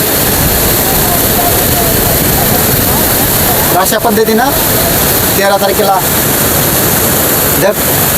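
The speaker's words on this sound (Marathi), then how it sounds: "धाराशिवला पाणी पुरवठा करणार धरण पूर्णपणे क्षमतेनं भरून ओसंडत आहे सध्या" Floodwater pours over the brimming Terna dam near Dharashiv after a cloudburst, a loud, constant roaring rush close by, with someone talking over it.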